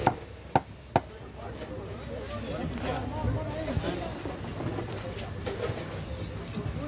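A knife chopping through tuna in a fish-slicing setting, three sharp, loud cuts close together at the start, then softer background noise while people talk.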